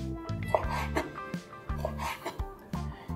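A knife chops squid into rings on a cutting board in short, crisp strokes, with a few soft clatters between cuts; no one speaks.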